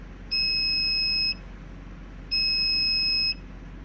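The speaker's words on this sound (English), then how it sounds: "Another alarm is the door open alarm." A Heska veterinary fluid pump sounds its door-open alarm as two identical long electronic beeps. Each beep lasts about a second and the two are spaced about a second apart. The beeps are clear and loud over a faint hum.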